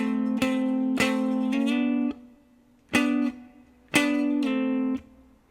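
Electric guitar playing the chord part of a song, with short rhythmic strummed chords and slides up the neck, arriving as clear bursts separated by brief pauses, played alone without talking.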